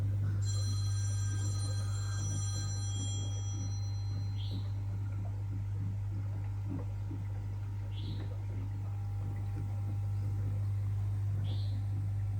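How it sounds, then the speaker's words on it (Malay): A phone rings faintly with an incoming call over the constant low hum of a home aquarium setup, with one clear burst of ringing at the start followed by soft chirping tones at intervals. "Tu ada orang telefon pula tu."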